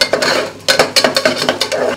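Crushed ginger goes into a pan for akki usli and is stirred, a spoon scraping and clinking against the metal in a steady rhythmic series of loud, close strokes.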